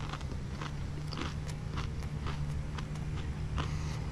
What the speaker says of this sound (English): So let's give it another bite.